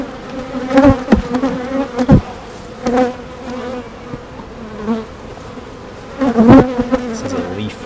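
Honeybees buzzing loudly and close at an open hive during an inspection, a dense continuous drone with several individual bees swelling past the ear.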